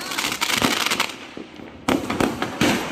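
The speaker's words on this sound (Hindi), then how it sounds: "ये तो 100 शॉट लग गए। नॉन स्टॉप फूटते जा रहे हैं।" A rapid string of Diwali fireworks, a 100-shot cake, bursts nonstop in loud, crackling volleys with a short lull before the bangs resume close by.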